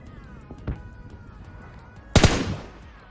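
Gunshots from an M416 rifle in PUBG Mobile Lite, two separate loud shots, the second a sharp crack with a lingering echoing tail, over quiet background.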